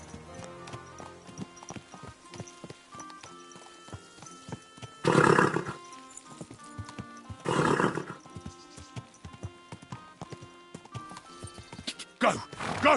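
In Kingdom Come: Deliverance II, a horse's hooves clop in a steady walking rhythm while it lets out several loud, breathy neighs and snorts, over quiet game ambience and occasional short spoken lines.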